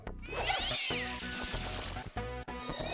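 Nekomata cat demons meowing in Shin Megami Tensei Nocturne, several loud, close, drawn-out meows with sliding pitch that overlap one another, backed by game music and with no talk.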